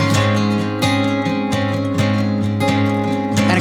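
Acoustic guitar with a layered arpeggiated guitar part stacked above it, bright rhythmic picked notes ringing in a steady repeating pattern, full and upfront with no voices.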